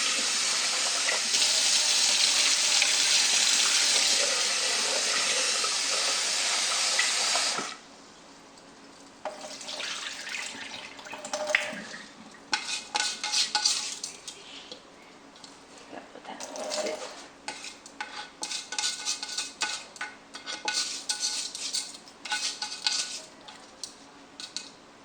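Rice being rinsed in a rice cooker's inner pot, starting with a steady rush of tap water and then shifting to wet swishing and clinks of grains and the pot, close by and at moderate loudness.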